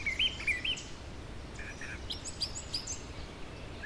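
A brown thrasher, a mimic bird that behaves like a mockingbird, gives short varied chirps and whistled phrases over outdoor background noise, faint and heard at some distance.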